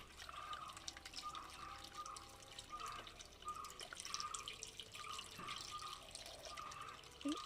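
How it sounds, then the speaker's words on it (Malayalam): Water trickles and drips softly and steadily into a container, quiet and close with no voices. "ഇങ്ങനെ നമുക്ക് വെള്ളം ഒഴിച്ചു കൊടുക്കാം"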